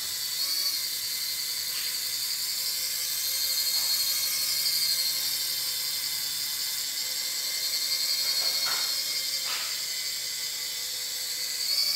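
A small flying crystal fairy toy whirs steadily with a high, buzzing rotor hum, close by and fairly loud for the whole stretch, with faint knocks now and then and no talking.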